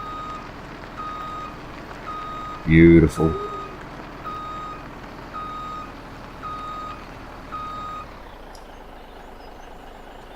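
A truck in Farming Simulator 17 reverses with three trailers attached, its steady evenly spaced backup beeps running over engine hum, a louder burst near the start, and someone speaking briefly.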